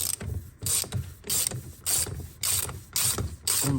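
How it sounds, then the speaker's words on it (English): A 36 mm socket on a ratchet loosens the oil filter lid of a BMW E31 840ci, giving repeated bursts of close, loud ratchet clicking in a steady back-and-forth rhythm with brief pauses between strokes. "So using a 36 socket, undo"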